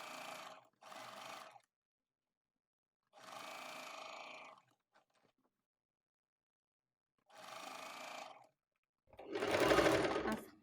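A sewing machine stitching a patchwork quilt runs in four separate close bursts of steady whirring, each lasting a second or so, with silent pauses between them.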